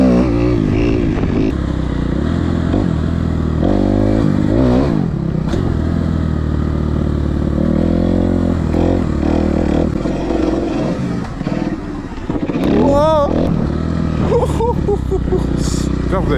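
A Kawasaki 250 KXF dirt bike revs hard with its rear wheel spinning for grip, a loud, close engine roar that rises and falls, with someone talking over it.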